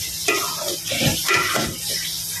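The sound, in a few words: water added to sizzling dumba (fat-tailed sheep) meat in pan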